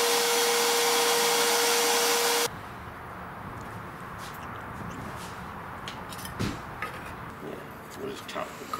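A loud, droning vacuum cleaner runs for a couple of seconds, then cuts off abruptly. Quieter clatter and room noise follow.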